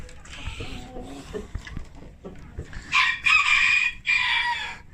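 Chickens in a henhouse: close, strained clucking and squawking build into loud crowing from a rooster, with a voice speaking at the start.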